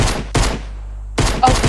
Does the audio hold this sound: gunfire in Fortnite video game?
yes